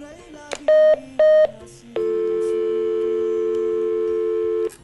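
Two short electronic dialing tones on an FM radio phone-in line, then a long steady telephone tone holding for several seconds, with brief faint noises between.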